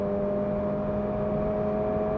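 A Toyota GR86 engine holds a steady high-rpm drone near 7500 rpm, loud and constant with strong harmonic tones throughout, no speech over it.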